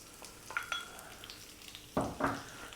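Onion going into hot oil infused with cumin seeds in a pan for a potato chickpea curry, a soft steady sizzle with a few stirring scrapes and clinks, fairly quiet and close.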